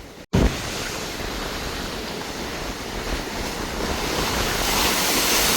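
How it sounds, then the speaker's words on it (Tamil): Storm waves crash and roar along the sea shore in Jaffna, a loud, continuous wash of surf and wind noise that swells steadily louder, with no talking. "கிட்டத்தட்ட ஒரு அலையும் வந்து ஒரு 10 அடி 15 அடி விற்கிறதுக்கு பறக்குது."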